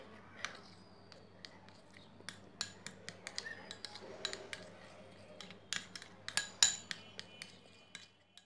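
Spoon stirring lemon juice into a homemade face pack in a small bowl: light, crisp clinks and scrapes in an uneven rhythm, quiet and close, with a faint hum underneath.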